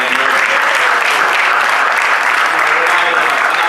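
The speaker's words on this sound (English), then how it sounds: "Give a round of applause again for Sherry Day." An audience at a town hall claps in steady, dense applause that stays loud and even throughout.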